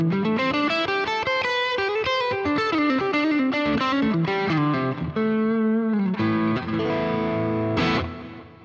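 Electric guitar played through a Boss GT-1000 on the X high gain amp model set to low gain, giving a crunchy, lightly distorted tone; a busy run of close, loud notes and chords ends in a ringing chord that fades out.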